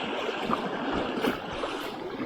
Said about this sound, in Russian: О, плещется.